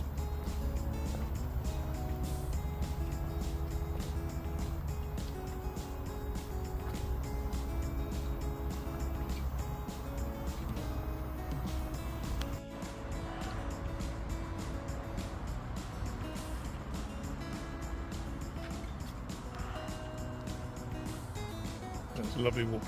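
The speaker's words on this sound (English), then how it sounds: "all I can hear are the cars going over the bridge" Cars rumble over a road bridge overhead beside the A14 in Orwell Country Park, a continuous low traffic drone heard from underneath, steady and moderately distant with passing swells.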